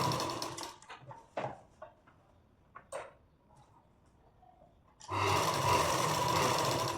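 An electric sewing machine stitches the edge of a blouse in close, steady rapid ticking. It runs briefly at the start, then sparse handling clicks and rustles follow, and a longer run of stitching comes at the end.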